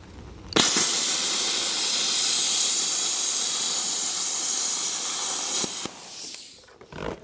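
A Hypertherm 33 XP plasma cutter tears through heavy 1/4-inch aluminum plate with a loud, continuous hissing roar that starts abruptly, holds steady for about five seconds, then cuts off with a short fading hiss.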